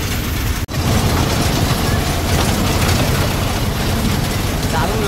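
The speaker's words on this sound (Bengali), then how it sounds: "এই দেখো আমাদের টয় ট্রেন কিন্তু চলছে।" A toy train at the Howrah Rail Museum runs with a continuous loud clattering, rattling mechanical rumble of wheels on track, close by, with a brief dropout near the start.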